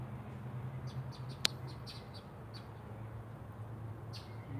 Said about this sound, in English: And the birds over there overseeing the garden.